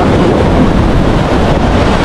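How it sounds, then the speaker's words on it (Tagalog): Rough sea waves crash under strong wind, a loud, dense roar of surf and wind buffeting the microphone without pause. "Oh, grabe yung alon, no?"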